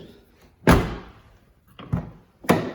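Car door of a Honda Accord being shut after a door handle replacement, three solid slams spaced about a second apart, close and loud with quiet between.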